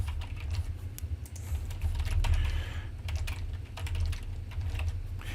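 Steady typing on a computer keyboard, with rapid clicking keystrokes in quick, irregular bursts over a low background hum, close and moderately loud, with no voices.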